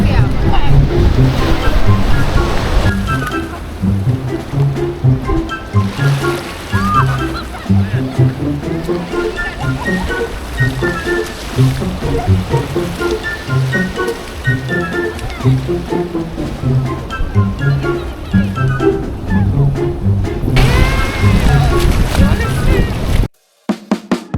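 Sea waves wash onto the sand at Mandarmani beach, a steady rolling surf with gusts of wind buffeting the microphone, while several people talk over it throughout before a brief cut near the end.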